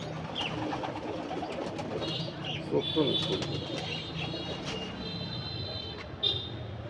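Pigeons coo softly in a loft in low, throaty bursts against a steady background hum, with occasional higher chirps and faint voices nearby.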